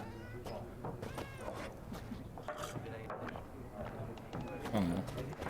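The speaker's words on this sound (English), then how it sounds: "Oh, hello, kitty." A cat meows in The Witcher 3 video game, a short mewing call near the end over ongoing game music, ambience and footsteps, with someone talking nearby.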